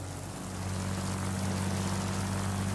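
Propeller warplane engine in World of Warplanes, a constant, even drone with a strong low hum and a rough airy roar, steady throughout with no talk over it.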